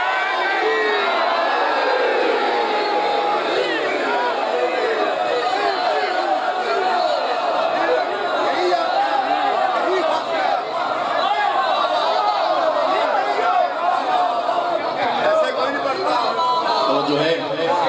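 An audience at a Shia majlis gathering answers a religious slogan with loud massed shouting and chanting, many voices overlapping in a steady, roaring crowd sound that carries on unbroken for the full stretch.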